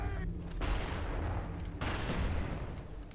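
Gunfire in Call of Duty Black Ops 1 multiplayer on Xbox 360: a dense, sustained barrage of shots with heavy booming low end, briefly easing before another burst, all loud and close.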